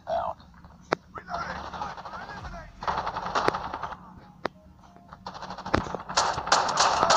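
Call of Duty Mobile pistol gunfire crackles in sharp single shots and short bursts in a cramped map, with game effects and someone talking over the action.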